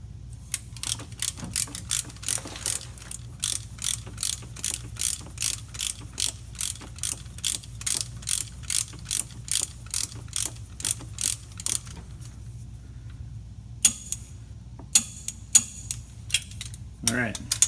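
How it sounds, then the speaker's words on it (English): A hand ratchet clicks in a long, regular series of sharp ratcheting strokes while torquing down a bolt on a 2005 Ford F-150 rear axle, close and loud, ending with a few metallic clinks and handling sounds. "We're going to install that, and we're going to torque that down to about 20 to 25 foot-pounds."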